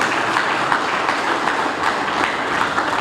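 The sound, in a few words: audience clapping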